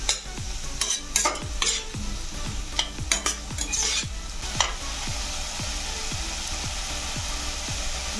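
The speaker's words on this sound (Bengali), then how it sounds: "ভালো করে নাড়াচাড়া করে মশলাটাকে কষিয়ে নেব" Spice masala for a restaurant-style yellow moong dal being stirred and fried in a pan, with a steady sizzle under repeated scraping strokes of a spoon against the pan, close and fairly loud.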